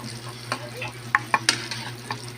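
Chicken wings frying in hot oil give a low steady sizzle, broken by a few sharp clinks and stirring clatters that come close together near the middle.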